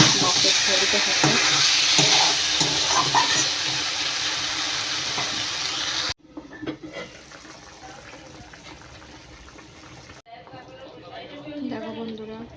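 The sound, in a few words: water added to sizzling fish curry in pan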